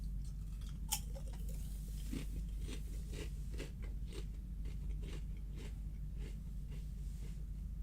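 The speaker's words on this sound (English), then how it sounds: "Chips. Crispy, crunchy delights." Crispy, crunchy chips being eaten close up, a steady run of small crunches and chewing bites over a low background rumble, with no talking.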